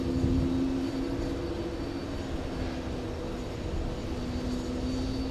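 An Emirates airliner taxis in to park at a JFK gate, giving off a moderate steady engine drone with a sustained low tonal hum running throughout.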